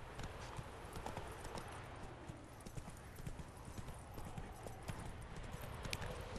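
A horse's hooves clip-clop in a steady, continuous gallop rhythm in The Witcher 3, with a brief whinny possible, moderately loud and close throughout.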